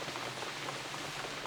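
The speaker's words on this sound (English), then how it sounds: "before it started raining" Soft steady rain falls outdoors, a faint even patter of drops on surfaces with no voices or other sounds.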